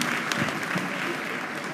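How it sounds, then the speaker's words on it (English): Audience applause at a graduation induction and prize awards ceremony, a steady dense wash of many hands clapping throughout, fairly loud and close, with faint voices mixed underneath. "Let's give him a very resounding applause"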